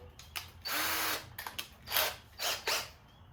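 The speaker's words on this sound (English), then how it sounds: "Okay, so I got my drill." A power drill whirs in several short, close bursts, starting and stopping as it bores a small pilot hole in a custom door card for a Mk1 VW Cabriolet.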